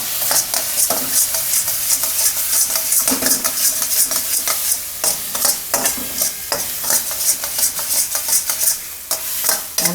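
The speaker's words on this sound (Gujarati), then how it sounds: "અને મિક્સ કરીશું." Spices and chilli powder stirred into a frying mixture in a pan for parval kofta: rapid, repeated scraping and clinking strokes of a spoon against the pan over a steady sizzle, loud and close.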